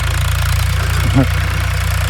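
A tractor ploughing a field near a village in Kadapa district, its engine giving a steady, loud, low drone throughout, with one brief tonal chirp just past the midpoint.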